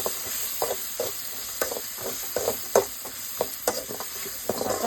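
Green chillies fry with tomatoes in a pan for a home chapati gravy, giving a steady sizzle broken by soft stirring scrapes at irregular moments, close and moderately quiet, with no talking.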